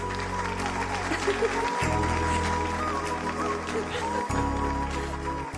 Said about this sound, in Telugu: స్టూడెంట్స్, మన జెసికా మేడం కి క్లాప్స్ కొట్టండి.